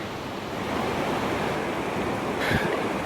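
Steady, full-bodied roar of Harper Creek's triple-drop waterfall in Pisgah National Forest, North Carolina, a constant broadband rush heard close by, with a brief louder splash near the end.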